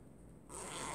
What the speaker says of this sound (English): It has a zipper on top. And I'll show you how easy it works.